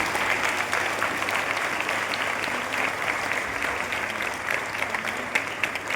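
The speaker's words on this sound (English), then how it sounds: "Let us give a big round of applause for the students who have worked really hard and the teachers" An audience at a youth parliament applauds the students, a steady, even roar of many hands clapping that carries on unbroken from start to finish.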